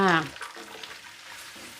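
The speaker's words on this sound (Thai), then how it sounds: "เดี๋ยวเราก็เทพริกที่เราปั่นไว้นะลงไปเลยค่ะ" Blended chili, garlic and shallot paste poured into boiling coconut milk for a green curry, giving a soft bubbling, splashing sizzle that runs steadily under a brief voice at the start.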